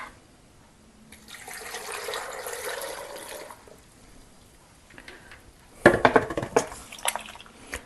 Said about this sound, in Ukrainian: заливаємо цією водичкою з лимоном і будемо проварювати